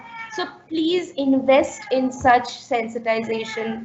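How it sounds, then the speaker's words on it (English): A cat meows during a panel discussion, its cries mingling with a person speaking steadily throughout. "I'm so sorry about my cat."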